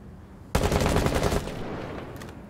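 Machine gun fire in the video game Battlefield: one loud, rapid burst lasting about a second, followed by a fading echoing tail.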